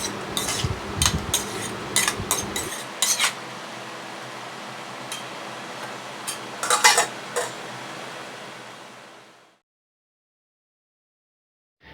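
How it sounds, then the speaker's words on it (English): A lid comes off a pan of chilli paneer and a spoon stirs it, producing clattering metal scrapes and clinks over a steady kitchen hum before the sound cuts out. "Carefully uncover the lid and mix the chili paneer well."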